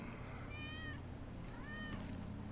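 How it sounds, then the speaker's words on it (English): A cat in the video game Final Fantasy 7 Remake meows twice in short, clear calls about a second apart, set over a steady low background hum of game ambience. "That's Wedge's cat."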